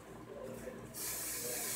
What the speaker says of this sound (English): Finish off with your hard spray